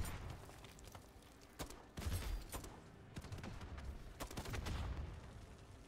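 Gunfire in MW3 Zombies, a steady stream of sharp shots and bursts mixed with booming impacts, moderately distant and continuous across the stretch.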